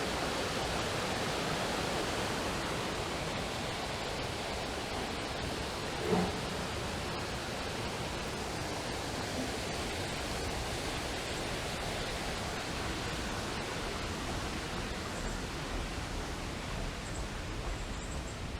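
Water from a stream in a Toronto park between Edwards Gardens and Serena Gundy Park flows in a steady, broadband rush, constant and fairly close, with no voices.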